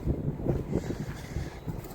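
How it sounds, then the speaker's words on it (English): Gusty morning wind by a river buffeting the microphone, a fluctuating low rumble that rises and falls over a couple of seconds. "it's a little windy this morning."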